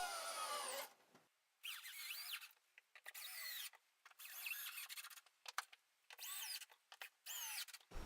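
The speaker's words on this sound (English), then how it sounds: "Then drive the screws firmly in place." Power drill driving screws into a wall to mount a pet door, with several short whirring bursts separated by brief silences, close and fairly quiet.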